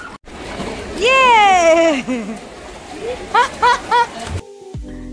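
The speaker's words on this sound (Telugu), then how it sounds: "ఇలా స్విమ్మింగ్ పూల్లో ఎంజాయ్ చేసి ఇంకా రుద్ర బాగా అలసిపోయాడు అనమాట" Splashing in a swimming pool on the MSC Musica cruise ship, with a child's rising excited squeals and shouts over the water noise and more short cries toward the end.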